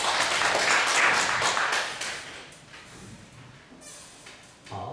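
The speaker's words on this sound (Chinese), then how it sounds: "拍手，大家鼓励一下" A room of people claps in a brief burst of applause that swells, then thins out and fades after a couple of seconds.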